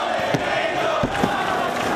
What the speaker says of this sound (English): The crowd trying to fire him up